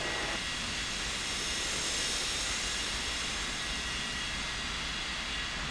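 In the Unmatched Air Traffic Control game, an airliner's jet engine roars steadily during takeoff as a broad, even hiss that holds at a constant level throughout.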